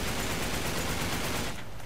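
Loud, continuous gunfire from the video game Uncharted 3: Drake's Deception sounds as a rapid, unbroken volley that eases slightly at the very end.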